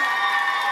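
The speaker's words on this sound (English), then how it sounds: "One more round of applause." Audience applause and cheering after a Rivera Middle School performance, heard as a brief, dense, steady wash of crowd noise at moderate loudness.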